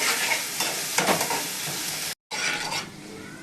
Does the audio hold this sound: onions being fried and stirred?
yes